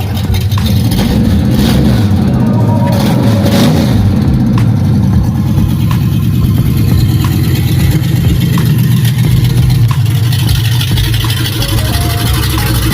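A car with a swapped-in LS engine revs loudly and close by, with repeated throttle blips over a deep, rumbling idle for about thirteen seconds and no talking.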